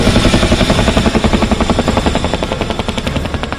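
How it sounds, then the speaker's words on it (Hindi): A Chinook helicopter at an air show over Dal Lake thunders loudly overhead, its twin rotors making a fast, heavy, continuous chopping beat that echoes across the valley. "यहां पर लोगों के सबसे करीब चिनूक हेलीकॉप्टर आया। इसकी गरज जब घाटी में गूंजी"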